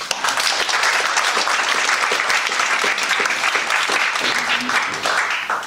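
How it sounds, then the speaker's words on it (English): A lecture audience gives Professor William P. Mako a loud, sustained round of applause as he is welcomed to speak on South Korea's IMF crisis. Dense clapping continues evenly for about five seconds before tapering. "let's welcome Professor Mako with a big round of applause"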